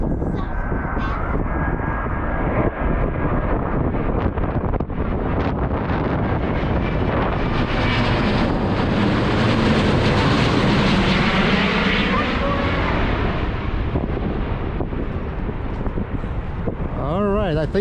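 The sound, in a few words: Airbus A350 twin-engine airliner passing overhead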